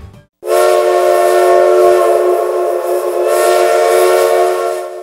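A steam train whistle blows in one long, loud, sustained tone after a brief silence, with a hiss of steam around it and nobody speaking.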